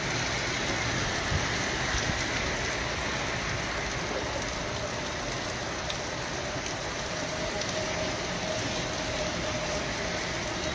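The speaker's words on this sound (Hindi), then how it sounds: "बहुत ज़ोरों की बारिश इस वक्त बरस रही है।" Heavy rain beats down on Lal Chowk in Srinagar, a loud, unbroken wash of drops on street surfaces with a faint low rumble of traffic beneath it and no talking.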